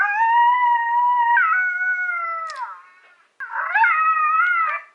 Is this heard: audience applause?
no